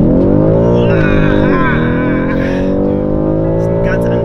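A BMW M5 F90 accelerating hard: a loud, close engine roar that climbs steadily in pitch, dips briefly, then pulls strongly again and dominates throughout.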